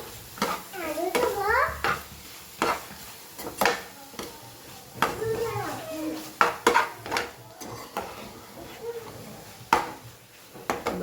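Red chili sauce mixture for a desi pizza stirred in a pan, a series of spatula knocks and scrapes against the metal in an irregular rhythm, with a voice and other speech heard between the strokes.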